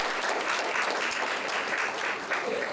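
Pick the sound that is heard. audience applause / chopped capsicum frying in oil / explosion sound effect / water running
audience applause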